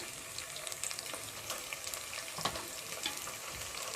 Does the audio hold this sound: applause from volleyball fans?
no